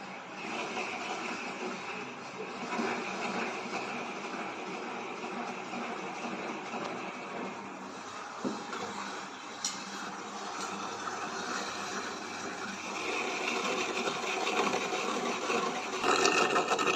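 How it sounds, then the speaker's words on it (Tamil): Table-top wet grinder grating half a coconut, a continuous loud rasping, scraping grind that stays steady throughout with slight swells near the end. "இந்த பாருங்க, 2 மினிட்ஸில் அரை முடி தேங்காய் திருவிடலாம்."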